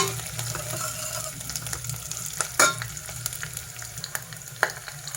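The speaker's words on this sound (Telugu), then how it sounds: "పోపు ఎగిరిందండి." Mustard seeds and spices tempering in hot oil for rasam, crackling and spluttering in a steady sizzle with a few sharper pops standing out, close by and with no talk.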